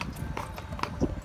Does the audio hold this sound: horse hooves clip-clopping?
yes